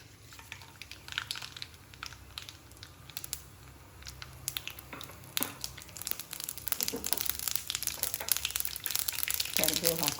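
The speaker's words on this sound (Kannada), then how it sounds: "ಎಣ್ಣೆ ಕಾದಿದೆ, ಸಾಸಿವೆ ಹಾಕೊಳ್ಳೋಣ." Mustard seeds spluttering and popping in hot oil in a home kitchen while making vangibath, a steady scatter of close crackles and sharp pops that grows busier toward the end.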